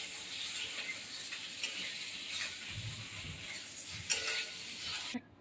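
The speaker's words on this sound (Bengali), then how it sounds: "তো দেখো এবার আমি বাকি যে 4টে ডিম আছে সেটাকেও ভেজে নিচ্ছি।" Eggs fry in oil in a wok with a quiet, steady sizzle, broken by soft scraping and stirring clicks near the end.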